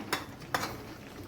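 Two quick scraping strokes of a utensil in a pan as shrimp are stirred into cooked vegetables, close and fairly quiet, with no talking.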